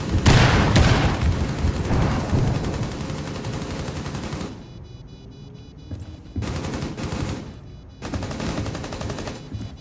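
Loud, close bursts of gunfire in Rainbow Six Siege during a Club bomb match, dense rapid shots in the first seconds, then a lull and several shorter separate volleys.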